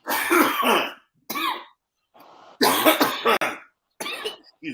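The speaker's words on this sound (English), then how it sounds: "I'm coughing, but whatever." A man coughs in several harsh bursts spread across the moment, with brief pauses between fits and a throat-clearing quality, close and fairly loud with no other sound around it.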